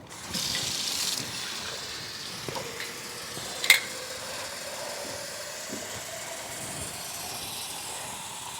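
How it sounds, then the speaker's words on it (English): Tap water runs steadily into a glass canning jar, a constant hissing pour with one brief clink of glass partway through. "I will fill these jars with water."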